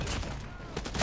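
Rapid light machine gun fire from Call of Duty Mobile gameplay, the season 7 LMG, a short dense burst of repeated shots with game effects, loud and close.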